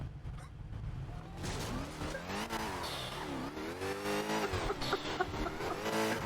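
Cars racing in the GTA video game, with engines revving and tires squealing and skidding in long wavering pitched slides, loud and continuous, close up, with no talking.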